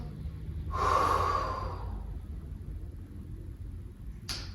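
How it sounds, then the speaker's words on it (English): A single breathy exhale through the mouth during a yoga breathing exercise, close and soft, lasting about a second, followed by quiet room tone. "inhaling one time through the nose and exhaling through the mouth"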